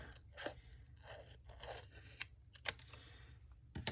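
Scissors free-cut a strip of scrap paper into a tab for a junk journal, giving a series of soft, close snips and crisp crunches spaced irregularly, faint and without talk.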